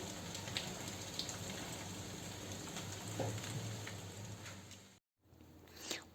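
Steady rain falls on a rainy day, a soft continuous patter with scattered drops, faint and even, with a brief dropout near the end.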